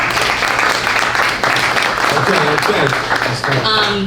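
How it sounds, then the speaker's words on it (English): Audience applause at a live LAspeaks talk event, steady dense clapping filling the room with a voice briefly audible over it. "Yeah, clap it up for that."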